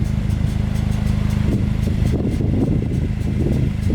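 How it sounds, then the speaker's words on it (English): A 2020 Jeep Wrangler with an AFE axle-back exhaust idles steadily, giving a continuous low, throbbing rumble with an even pulse, loud and close, with no talking. "so I think it's a pretty good exhaust for the price"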